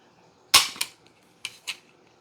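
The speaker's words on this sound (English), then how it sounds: "See, we got a lighter trigger pull." A polished trigger on a Panzer Han9 shotgun is dry-fired, giving two pairs of sharp mechanical clicks, close and crisp, with quiet pauses between them.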